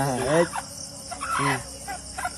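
A nearby chicken clucks in short bursts against a background of chirping insects, with a pause between calls.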